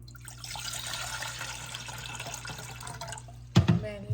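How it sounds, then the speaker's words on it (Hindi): Water pours steadily into a cup or glass while making a lemon and ginger drink in a home kitchen, a continuous close trickle that ends with a sharp clink of the container near the end. "मैं लेमन और जिंजर का वाटर बना रही हूँ"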